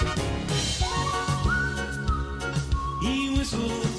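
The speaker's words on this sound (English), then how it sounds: "He whistles as he goes" A man whistles a cheerful tune while driving the Pontypandy bus, the clear whistled melody carried over a steady musical backing.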